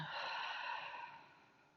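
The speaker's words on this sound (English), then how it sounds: "Inhale big and exhale." A slow, deep exhale during a relaxation breathing exercise, one soft airy breath out that is steady at first and then gradually fades, close and quiet with no talk over it.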